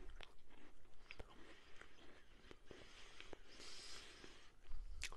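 Shortbread biscuit being eaten close to the mic in an ASMR style, with crisp bites and a steady run of crunchy chewing, fairly quiet throughout.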